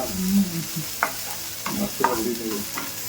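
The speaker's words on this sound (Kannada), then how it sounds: "ಇಲ್ಲ, ಸ್ವಲ್ಪ ಫ್ರೈ ಆಗಬೇಕು, ಬಾಡಬೇಕು, ಎಣ್ಣೆ ಹಸಿ ವಾಸನೆ ಹೋಗ್ಬೇಕು." A handful of coriander leaves frying in oil for masala curd rice, a soft continuous sizzle punctuated by short sharp stirring scrapes of a spoon in the pan, close up with no speech.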